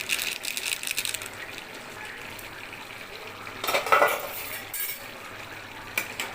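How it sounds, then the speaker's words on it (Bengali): Food stirred in a pot after garam masala is added, a spoon scraping and clinking against the metal with a louder scrape burst midway, close and without talk. "ভালো করে নেড়ে চেড়ে"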